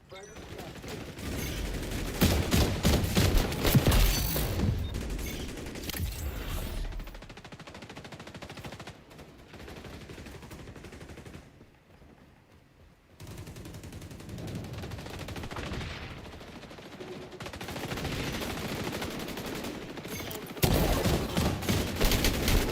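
Rapid automatic gunfire rattles in dense bursts during an XDefiant match, dropping to a lull midway before the shooting picks up again, with players talking underneath.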